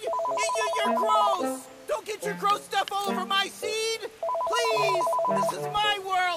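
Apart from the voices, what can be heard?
telephone ringing in the VR video game Accounting+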